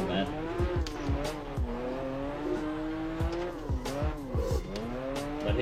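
A car accelerates hard in second gear, a steady rising engine whine with repeated shifts in pitch as it pulls, heard close and fairly loud throughout without speech.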